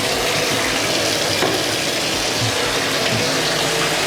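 A toilet in a newly built home's bathroom flushes with a steady, loud rush of water that continues throughout, with no talking.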